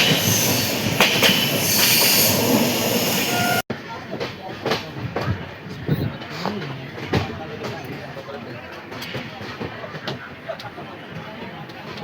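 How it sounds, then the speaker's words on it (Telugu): A train arrives at a Delhi station, sending a steady rumble and clatter of rail cars through the first stretch. After an abrupt cut, quieter knocks, thumps and platform bustle follow, with faint voices in the background. "ట్రైన్ ఇదిగో ఇదే ట్రైన్ దిగేసినాం."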